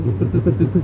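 A man imitates with his voice a motorcycle engine juddering in third gear, a rapid pulsing low growl of several chugs in under a second, close and loud.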